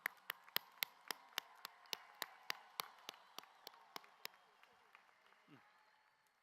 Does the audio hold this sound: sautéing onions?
no